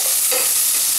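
Green chillies sauté in a hot pan for a mutton stew, giving a steady, close bright sizzle with faint stirring scrapes, with no voices.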